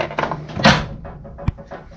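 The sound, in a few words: tool cabinet drawer being opened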